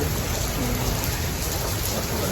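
Steady rain pours down in a farming area of Punjab, a dense, continuous hiss that stays close and loud for the whole stretch, with no voices.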